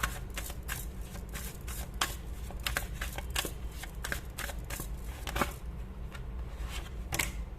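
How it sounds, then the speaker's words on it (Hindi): A deck of tarot cards is shuffled by hand, a continuous close rapid riffle of crisp card flicks and slaps with no talking. "वापस से मैं शफल करूंगी।"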